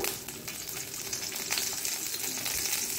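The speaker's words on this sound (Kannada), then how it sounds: "ಮತ್ತು ಬೆಳ್ಳುಳ್ಳಿಯನ್ನು ಹಾಕ್ಕೊಳ್ತಿದ್ದೇನೆ, ಗುದ್ದಿದ ಬೆಳ್ಳುಳ್ಳಿ." Crushed garlic frying in a couple of spoonfuls of hot oil for a Mangalore cucumber and jackfruit seed sambar, a dense, steady close-up sizzle with occasional stirring.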